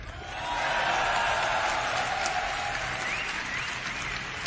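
Crowd at the Dreamhack Winter 2011 StarCraft grand finals cheering and applauding, a broad sustained roar that swells quickly and holds steady at a moderate distance.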